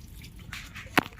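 A single sharp drop of water lands while potted plants, including tomatoes, are being watered in a sunny spot, one brief close drip after a second of faint, soft rustling.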